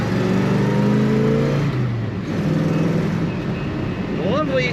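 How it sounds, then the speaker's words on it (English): A 1966 Chevrolet Chevelle convertible with a four-speed floor shift accelerates with a steady engine roar. The pitch climbs in stages and is heard from inside the car, with a voice talking over it. "Lovely acceleration, lots of fun to push that throttle down"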